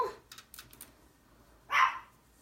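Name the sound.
dog barking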